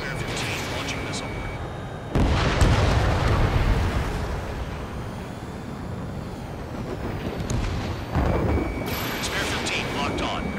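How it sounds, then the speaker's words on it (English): Missiles launching and exploding in the jet combat game Ace Combat 7: a roaring burst at about two seconds, sustained rumble, and another loud surge near eight seconds, with voices talking throughout. "Spare 15 launching missile."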